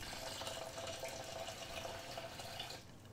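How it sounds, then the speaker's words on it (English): Water is poured into a cooking pot while preparing a Thai dish, a soft, continuous trickling and splashing stream heard close and quiet, cutting off just before the end, with no voices. "And then you pour your water in."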